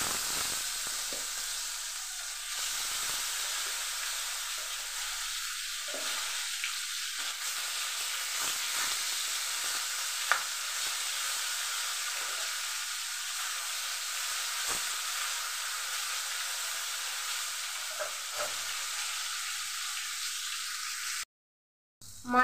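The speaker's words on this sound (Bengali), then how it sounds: "এটা গরম হয়ে গেছে, এখন আমি মাছগুলো দিয়ে দেব" Fish rubbed with salt and turmeric sizzles steadily in hot oil, a loud continuous hiss with faint crackles, running almost uninterrupted before cutting out briefly near the end.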